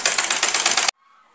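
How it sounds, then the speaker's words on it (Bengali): A sewing machine runs in a rapid mechanical clatter, stitching the side seam of a kameez one inch in from the edge, close and loud for under a second before stopping abruptly, leaving a faint hum. "তো আমি একইভাবে আরেক সাইডটাও সেলাই করে নেব ওই 1 ইঞ্চি ভেতর দিয়ে।"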